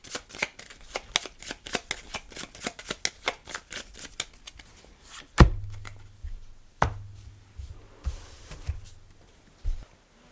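A deck of board game cards is shuffled in a fast run of crisp riffling snaps, then a few louder taps and thumps as the cards are squared and set down, close and with no talk.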